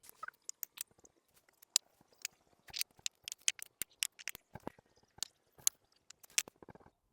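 Shears snip through perennial vinca minor in a container bench planting, a run of sharp irregular cuts and rustling foliage, close and fairly quiet with short pauses between clusters of snips.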